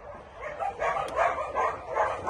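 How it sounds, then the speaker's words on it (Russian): A tiny puppy yips and whimpers in a run of thin, high, pleading cries that rise and fall close by, with no talking over them. "Кому нужна собачка?"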